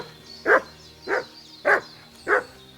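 A dog in the video game Kingdom Come: Deliverance 2 gives four evenly spaced, close, clear barks in a row with no talking.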